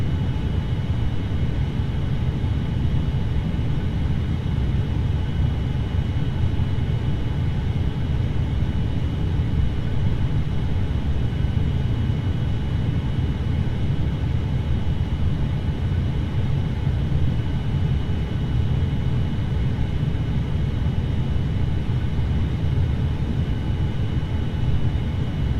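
Steady low engine rumble of a Boeing 787-9 airliner on approach in Flight Simulator X, a constant even drone with no breaks and no voices.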